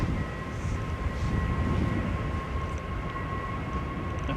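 A Ryanair jet rolling out for takeoff at Manchester Airport, a steady loud engine roar with a sustained whining tone throughout, heard from some distance with no talk.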